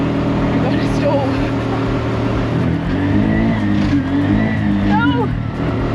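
A tuk-tuk's small engine revs hard and steadily while driving, with changing gear pitch throughout and people talking over it.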